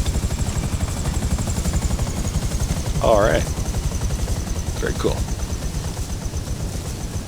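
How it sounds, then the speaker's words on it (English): Buzzard helicopter in GTA Online flying with a steady, loud rhythmic rotor chop throughout, while someone talks briefly over it. "So moving on to the pros, I would say it's a fast helicopter."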